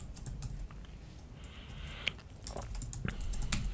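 Keys on a computer keyboard are tapped in a short burst of faint, scattered clicks over a steady background hiss, with no one speaking.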